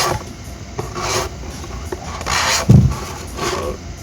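A chisel scrapes old foam edge off a JL Audio 10W6 V2-D4 subwoofer cone, giving close, uneven rubbing and rasping strokes with a sharper scrape near the end.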